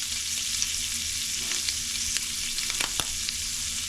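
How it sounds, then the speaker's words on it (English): Onions frying in melted butter on low heat, a steady close sizzle broken by scattered scrapes and taps as they are stirred, with no talking. "We're going to stir our onions around just like this."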